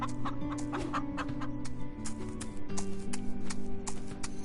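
Leghorn chickens in the PS4 farm game Farm Together cluck repeatedly in busy, overlapping bursts over layered background music, fairly close and steady throughout.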